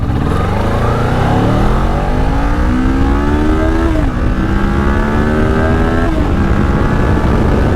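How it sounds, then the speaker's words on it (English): A two-cylinder sport motorcycle that redlines at 11,000 RPM accelerates hard through the gears, its loud, rising engine whine climbing steadily, dipping briefly at each shift, then climbing again, close and continuous. "It's a 2-cylinder motorcycle"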